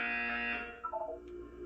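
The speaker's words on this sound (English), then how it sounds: "You will hear a buzzer." A loud electronic buzzer from the Portal 2 video game sounds as one sustained, harsh tone lasting about half a second, then gives way to quieter game sounds.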